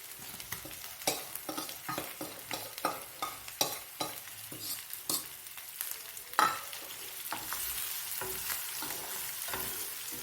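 Small fish, marinated with turmeric, salt and chili, being gently stirred into a simmering mango curry pan, with soft scraping stir strokes repeating over a low steady sizzle, close and fairly quiet.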